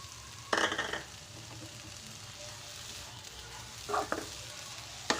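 Fenugreek and coriander leaf bhaji being stirred in a pan, giving a soft steady sizzle with two brief bursts of stirring scrape, near and fairly quiet.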